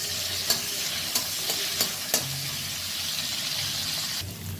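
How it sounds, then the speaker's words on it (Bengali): Drumstick stems frying with salt and turmeric in a pan, a soft steady sizzle punctuated by several sharp stirring scrapes in the first half, fairly quiet and close. "এটা দিয়ে আমি ডাঁটাটাকে একটু হালকা করে ভেজে নেব"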